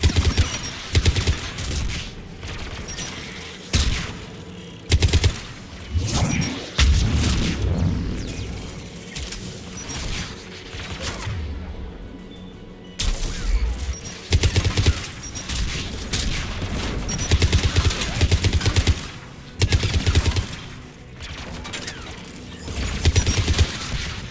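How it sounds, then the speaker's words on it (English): Anti-aircraft guns in Mass Effect 3 Legendary Edition fire in repeated heavy bursts of gunfire and booming blasts across most of the scene, with a brief lull partway through before the barrage resumes. "Aircraft guns are up ahead."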